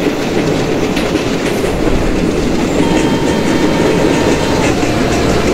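A simulated Indian passenger train on the Bhusaval to Katni route runs at full power in the MSTS Open Rails game, giving a loud, continuous rumble with rhythmic clickety-clack of wheels over the rails throughout.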